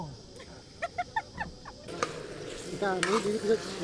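Food fries in hot oil at an outdoor New Year picnic, a soft sizzle with stirring scrapes that grows busier, preceded by a few brief chirpy tones.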